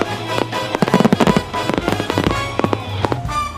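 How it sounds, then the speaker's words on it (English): A holiday fireworks show after a Santa tree-lighting event bursts in a rapid volley of sharp, loud explosions and crackles, several blasts close together, with faint crowd noise beneath. "Spectators treated to a fireworks show."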